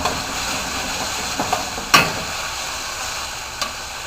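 Steaks searing in a pan with capers, a steady soft sizzle broken by a few sharp clicks and taps of a utensil against the pan.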